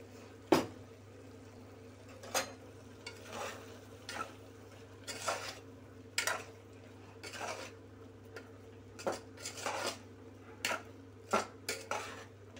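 A spoon scrapes and clinks against a pan while ground paste is stirred into drumstick-potato kuzhambu, sharp intermittent knocks spaced a second or two apart over a low steady hum, fairly quiet and close.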